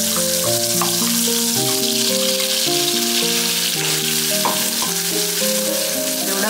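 An onion and coconut masala paste is sautéed in a pan, a loud, constant sizzle running under stepping instrumental background music.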